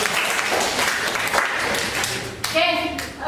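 High school students in a classroom clap hands together, a busy, fairly loud patter of applause, with a voice breaking in near the end.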